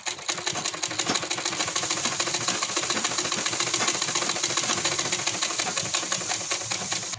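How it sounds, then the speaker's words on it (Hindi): A sewing machine stitches piping onto a garment neckline, a steady fast mechanical whirring chatter that runs continuously and close, with no talking. "कर देंगे कटिंग और एक सिलाई और लगाएंगे ये पाइपिंग पकड़ते हुए।"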